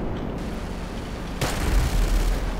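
Aircraft cannon fire from an F-35B Lightning II in the GTA V video game: a rumbling background, then a sharp burst that rolls into a heavy, sustained booming barrage for the last second.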